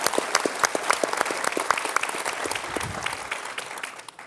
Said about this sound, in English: Like that deserves a round of applause.